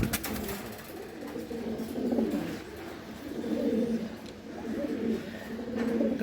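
A racing pigeon coos in slow repeated rolling phrases, close by, with faint background noise and no talk.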